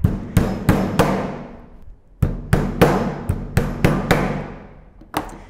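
A hammer drives a nail into a wooden whirligig piece in a workshop, striking about ten sharp, ringing whacks in two quick bursts with a brief pause between, close and loud with no talk.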